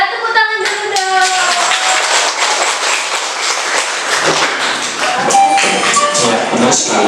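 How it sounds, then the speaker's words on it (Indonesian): Children in an elementary school classroom clap together in a bright, busy burst of hand claps, with scattered voices mixed in over the clapping. "tepuk tangan dulu dong"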